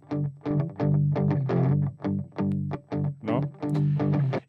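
An electric guitar plays dry with no effects processing, giving a series of clean, close plucked notes and short chords in an uneven rhythm, each decaying quickly.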